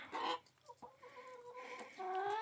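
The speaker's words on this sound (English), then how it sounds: "Our chickens are kind of scaredy cats." Backyard chickens cluck close by in short, overlapping bursts, a few hens murmuring and squawking softly at moderate volume.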